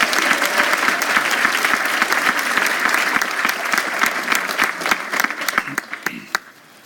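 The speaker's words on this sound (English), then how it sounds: "Give yourselves a warm round of applause" An audience at a Bard College at Simon's Rock event claps in a warm, sustained round of applause that fills the room before thinning to scattered claps and fading out.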